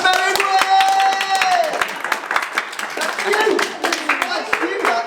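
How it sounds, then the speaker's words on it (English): An audience at a Black History Month panel event applauds to welcome a panelist, with dense clapping and cheering from a crowd, a loud whistle near the start, and voices mixed in. "Keep the energy and clap."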